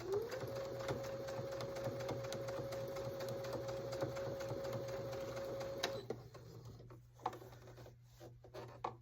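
A sewing machine runs slowly while stitching tight curves on a fabric baby bib, a steady whirring hum for about six seconds that stops, followed by a few faint clicks and handling sounds.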